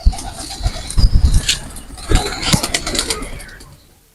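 Pigeons of Teddy, Kamagar and Rampuri breeds coo in a loft, with overlapping low calls, occasional wing flaps and rustling at close range, plus faint engine noise in the background.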